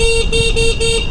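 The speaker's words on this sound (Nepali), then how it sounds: "हर्न पनि नट ब्याड" Electric scooter horn sounding as a steady, loud electronic tone with a few short pulsing breaks, close by, with no talk over it.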